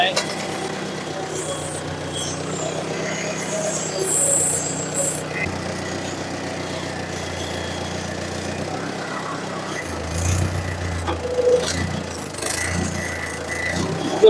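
A 1954 Ford NAA tractor engine runs with a steady low rumble that rises as the throttle is opened, alongside voices talking nearby.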